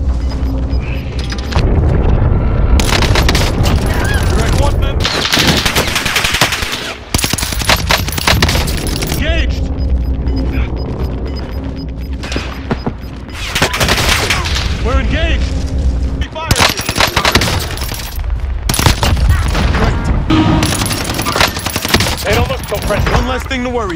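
Gunfire in a battle royale video game, loud bursts of automatic fire and heavy booms recurring across the stretch, with brief quieter gaps and some voices talking over the action.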